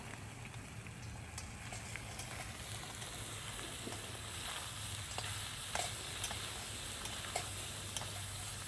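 Dumba lamb karahi fries in its own rendered fat in a pan, giving a steady low sizzle with scattered pops and crackles. It is fairly quiet and continuous, with no talking over it.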